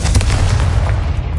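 A fiery Confringo spell explodes in Hogwarts Legacy, a loud, dense boom with a rolling low rumble that holds steady through the short burst and then eases off slightly.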